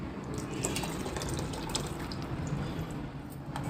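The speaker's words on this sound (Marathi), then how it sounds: "हे जे आपण पाणी काढलं होतं मगाशी ते टाकून द्यायचं आहे" Water pours steadily into a cooking pot of pumpkin-carrot soup, a continuous close splashing and gurgling with faint metallic clinks, no voices.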